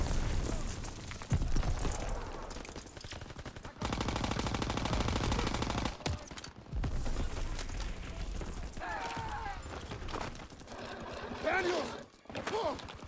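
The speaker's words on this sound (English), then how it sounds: "Covering fire!" Sustained automatic gunfire in a World War II battle scene, dense bursts lasting several seconds with brief gaps, shouted voices and battlefield noise layered over and between the shooting.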